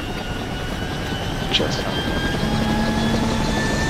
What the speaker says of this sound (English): We are gonna grab a chopper.